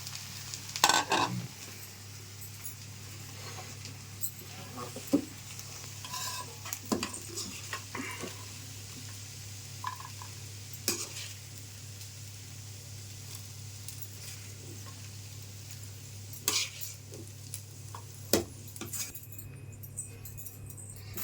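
Quiet sizzle of okra frying in a pan, interrupted by scattered scrapes and knocks of stirring, no voices.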